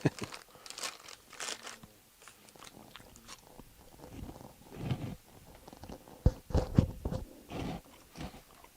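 Someone bites into and chews a crunchy snack close up, with repeated crisp crunches, crinkling and tearing bursts in an irregular rhythm, alone without talk.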